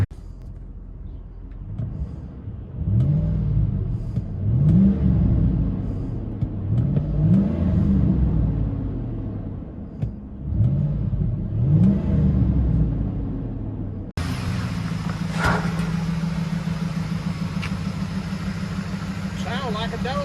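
A Ford F-150 with a 5.4L Triton engine and an aftermarket exhaust revs in repeated rising bursts, a deep rumbling tone near and loud, then settles into a steady throaty idle.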